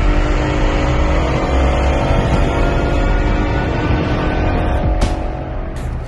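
A 2019 Mustang GT with a Whipple 5.2 VMP Odin supercharger launching down a drag strip in hot weather, its engine roaring loud and close with a rising, sustained howl, then a sharp shift near the end.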